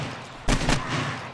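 AK rifle fire in the video game 7 Days to Die, a short, loud burst of one or two sharp cracks against a steady low background hum.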